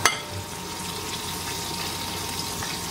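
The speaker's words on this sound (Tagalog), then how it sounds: "So, ngayon naglagay ako ng tubig." Water poured into a cooking pan while making sweet and sour fish: a steady, close rush of liquid that runs evenly for about three seconds after a brief clink at the start.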